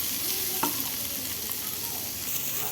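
Clams fry in oil with turmeric, giving off a dense, even hiss of bubbling oil, broken once early by a single clack of a utensil against the pan.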